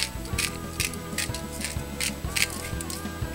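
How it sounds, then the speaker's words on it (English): A pepper grinder cracks fresh pepper in quick rhythmic bursts of gritty crunching, close and fairly quiet, with faint clicking mechanism sounds between twists. "grind some pepper"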